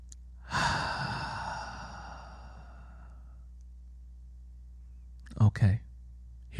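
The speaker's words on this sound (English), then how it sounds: "let's take a deep breath" A single slow, deep breath is drawn in and let out close to the microphone, a long soft airy exhale fading over a few seconds, followed after a pause by a short burst of voice.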